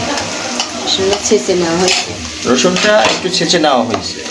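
Chopped onion, green chilies and garlic sizzle and crackle in a hot pan while a spoon stirs and scrapes with clinks, loud and close, as someone speaks over the cooking.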